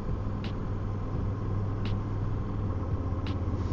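A loud motor vehicle with a filed-down muffler rumbles past outdoors, producing a steady low engine drone throughout, punctuated by a few brief sharp high chirps.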